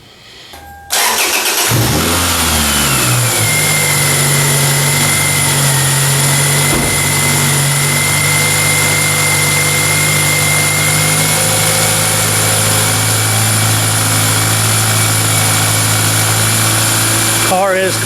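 A 7th generation Toyota Celica engine cranks and starts, then settles into a loud, steady idle while warming up inside a shop, close to the car.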